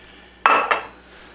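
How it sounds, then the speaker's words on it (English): A 4-quart saucepan is set down or knocked, making two quick bright metallic clanks in close succession that ring briefly and fade, close by in an otherwise quiet kitchen. "a 4-quart saucepan"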